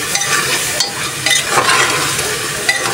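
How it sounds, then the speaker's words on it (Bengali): Meat browns in hot oil with onion, garlic, cumin and salt, sizzling loudly up close while a utensil stirs and scrapes the pan in irregular bursts. "মাংসটা আমি কষাই নিচ্ছি সুন্দর করে।"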